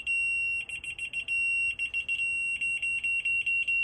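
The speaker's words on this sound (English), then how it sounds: "and you get different tone sounds if you're low or high" A laser level detector sounds a high-pitched electronic tone in bursts of rapid beeps, pausing briefly between groups, then continuing in a quicker steady pulse.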